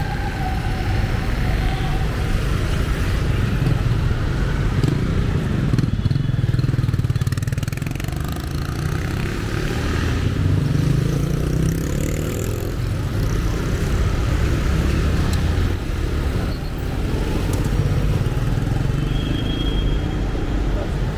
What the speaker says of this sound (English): It's a motorcycle lane.